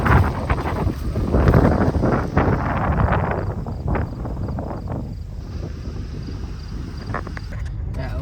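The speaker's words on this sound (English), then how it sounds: "The wind was blowing pretty good" Wind gusts roar into the microphone over an open crop field before harvest, loud rumbling buffets that ease off gradually while a faint whine lingers.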